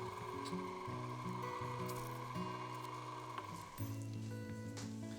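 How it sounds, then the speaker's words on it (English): A meat grinder churns steak into hamburger, a steady mechanical grinding drone with a rhythmic, stepped pulse running continuously and close, with a brief dip near the end. "So I'll just keep feeding the steak in there until it's all ground."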